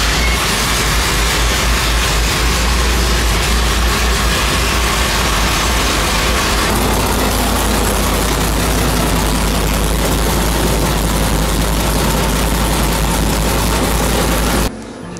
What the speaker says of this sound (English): So for a carbureted big block with a and pretty much tunnel ram looking four barrel on it, listen to this thing fire.